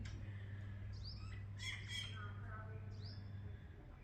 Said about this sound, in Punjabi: ਆਲੇ ਦਾਲੇ ਦਾ ਪੰਛੀ ਦਾ ਆਪਣਾ ਪੂਰਾ ਚਹਿ ਚਹਾ ਰਹੇ ਨੇ